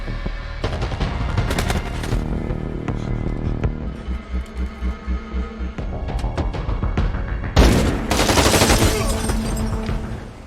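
Rifle gunfire in a film shootout, rapid bursts of shots and sharp cracks over a dense, throbbing background score, with a loud blast near the end.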